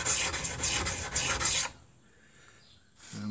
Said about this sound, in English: using once again the whole stone. Keeping a nice even pressure on the chisel.